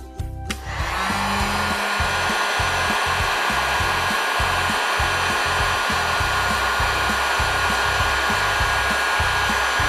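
Heat gun blowing steadily and loudly at close range while shrinking an end cap onto an electric floor heating cable, a constant airy roar with a low fluttering hum that starts abruptly and runs unbroken.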